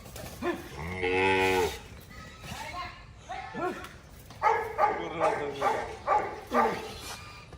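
Heifer cattle being exercised daily on a farm, giving a long loud moo followed by a series of shorter rhythmic low calls and panting breaths, close by, with background murmur.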